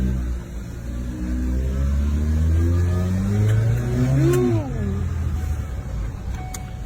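A car pulls away for a test drive, its engine revving up in rising and falling pitch sweeps, loud and close, with a short whine near the end and little talk.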